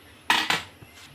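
Metal lid set down on a pot of chicken curry, giving two quick clanks in close succession followed by a faint tap, close and alone.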